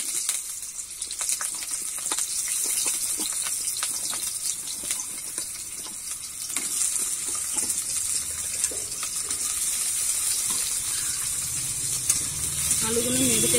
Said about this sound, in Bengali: তেলটা কিন্তু গরম হয়ে গেছে, এবারে আলুগুলো দিয়ে দেবো।